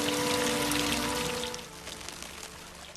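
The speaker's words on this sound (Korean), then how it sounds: "물이 새고 있던 벙커." Water leaking and pouring inside a flooded underground bunker, a loud, steady rushing wash with a faint low hum beneath that eases and thins partway through.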